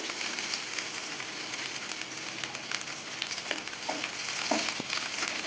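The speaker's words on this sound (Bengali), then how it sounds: "তেল গরম হয়ে গেছে প্রথমে আমি শুকনো লঙ্কা দিয়ে দেবো এবার কুচনো রসুন দিয়ে দেবো" Chopped garlic and dried red chilies sizzle steadily in hot oil, a dense crackling hiss with scattered sharper pops, close and fairly quiet with no talking.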